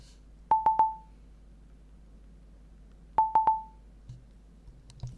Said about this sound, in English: Tornado watch has been issued.